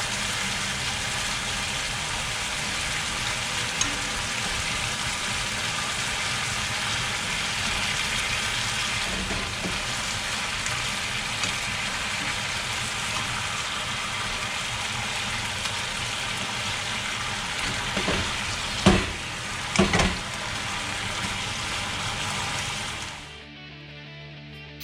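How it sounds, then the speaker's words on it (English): Thinly sliced ginger pork simmering with sauce in a frying pan as it boils down, a continuous dense bubbling sizzle held for a long stretch, with a few utensil knocks near the end before it cuts off. "Boil down while entwining with meat."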